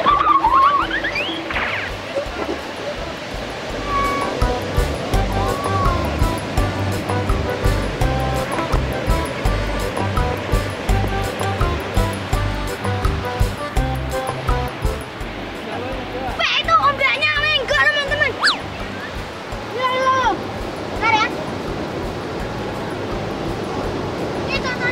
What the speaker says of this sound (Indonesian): Ombaknya tinggi banget teman-teman.